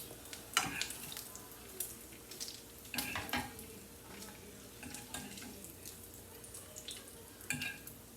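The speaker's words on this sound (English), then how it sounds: "toasting my bread in a frying pan" Bread toasting in a frying pan in a home kitchen, a steady low sizzle under intermittent clinks and scrapes of a utensil against the pan, with a few louder knocks; no talking.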